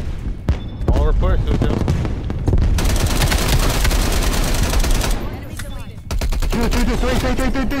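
Gunfire in the Call of Duty Black Ops Cold War beta on the Miami map, including a 1911 pistol: loud bursts of rapid shots, near and overlapping, with short pauses between volleys, while players talk over the action.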